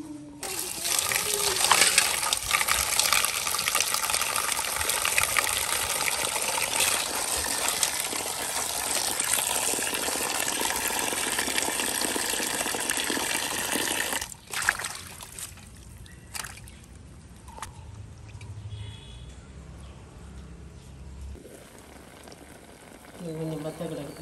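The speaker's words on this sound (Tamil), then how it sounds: "கீரை வடிவாக கழுவி எடுத்தாச்சு." Spinach greens being washed by hand in a bowl of water, with loud sloshing and splashing for about fourteen seconds, then quieter dripping and handling sounds.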